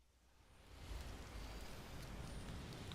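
Steady rainfall in the video game Skyrim hisses softly and evenly, a faint continuous patter without voices.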